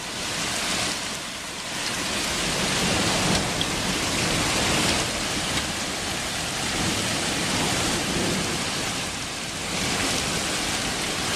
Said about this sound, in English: Man, this wind and this rain is a real mofo.